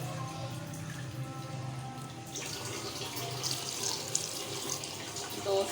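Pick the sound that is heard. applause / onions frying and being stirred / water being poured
water being poured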